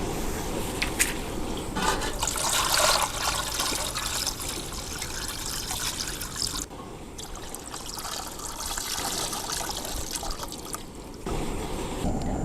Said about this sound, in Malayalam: വൃത്തിയായി കഴുകിയെടുക്കാം. ആദ്യമായിട്ട് കഴുകിയെടുത്തിട്ട് നമുക്കിതിനെ ഒന്ന് വേവിച്ചെടുക്കാം.